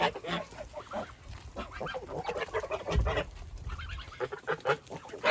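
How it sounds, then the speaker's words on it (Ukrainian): Kholmogory geese honk repeatedly at close range, a noisy chorus of overlapping calls with some quieter cackling between. "І холмогори, тут від моїх гусей."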